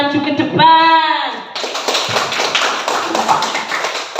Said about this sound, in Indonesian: Tepuk tangan buat teman-teman kita yang sudah maju ke depan.